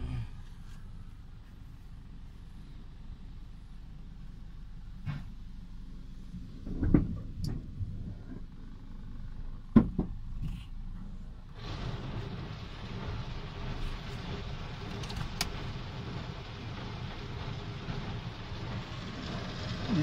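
An automatic car wash machine starts over a car with a few thuds and clanks, then a loud broadband rush of water spray and whirring brushes takes over and holds steady.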